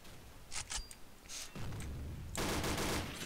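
Gunfire from the video game Combat Arms: a few quick scattered shots, then a dense burst of rapid automatic fire toward the end, fairly quiet overall.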